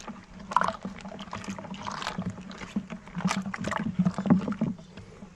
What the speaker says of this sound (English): You just got to stir it up,